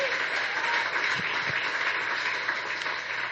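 Audience applause fills a hall during a high school sports hall of fame ceremony, a steady wash of clapping from many hands, sustained and even throughout.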